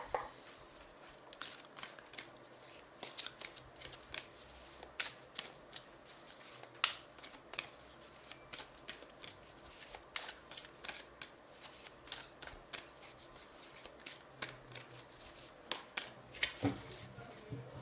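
A deck of tarot cards being shuffled close by, with a steady run of quick papery riffles and flicks that continue throughout at a moderate, even level with no talking.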